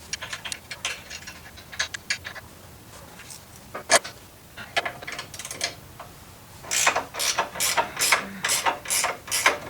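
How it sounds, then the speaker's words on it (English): Ratcheting wrench turning a 13 mm bolt while removing a Procharger from a 2015+ S550 Ford Mustang, a series of sharp metallic clicks, sparse at first and then a rapid, steady run of close, loud clicks. "I'm gonna use a ratcheting wrench for that one."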